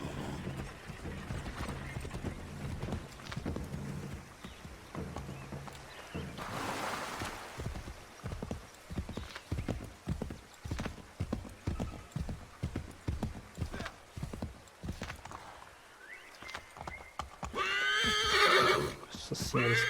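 Horse galloping in Assassin's Creed III Remastered, steady rapid hoofbeats running throughout with a whinny partway, game sounds and someone talking over it.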